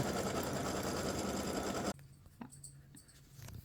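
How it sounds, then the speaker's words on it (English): An embroidery sewing machine stitches the bow area of a freestanding lace bow earring design, a steady loud buzzing run that stops abruptly partway, followed by quiet clicks and handling sounds. "it finishes stitching the bow area"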